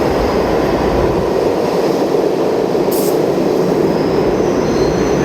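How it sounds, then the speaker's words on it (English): A downtown New York subway train of ten cars, nearly 40 years old, rolls into the East 68th Street–Hunter College station with a loud, continuous rumble and a brief high wheel squeal. "we have our downtown train coming."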